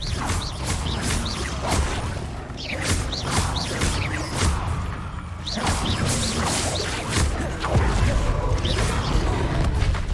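A disarming spell cast in the Hogwarts Legacy game rings out amid a dense wash of combat effects, whooshes and crashes that fill the whole stretch at steady loudness, with a player's voice shouting over the battle.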